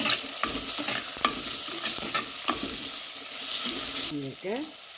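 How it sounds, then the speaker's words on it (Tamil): Cuttlefish curry ingredients with curry leaves sizzle and crackle in a hot pan while a utensil scrapes and stirs, with a brief whistle-like squeak near the end. "வதக்கி விடுவோம்."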